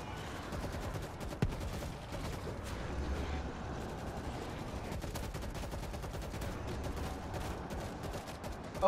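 World War Z gameplay fills the scene with dense, continuous heavy machine gun fire, a rapid crackling barrage that runs throughout at moderate loudness, with scattered impacts and no clear voices.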